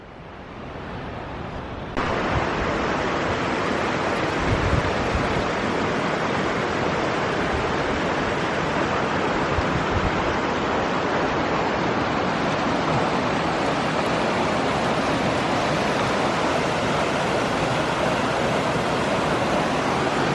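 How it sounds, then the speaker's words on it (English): Rushing creek water in a mountain creek in Wild Basin, Rocky Mountain National Park, a steady broadband roar of flowing water that holds constant for the whole stretch, loud and close with no talking. "there was no good way across the creek, so I decided to ford, and I did that right there"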